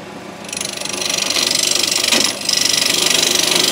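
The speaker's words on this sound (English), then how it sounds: "you have to press in that direction against the hole saw once the hole saw is going" A hole saw spins up and cuts into a bamboo bicycle frame piece, giving a steady, loud, rough mechanical whir with a fast rhythmic chatter that dips briefly and then carries on, with no talking.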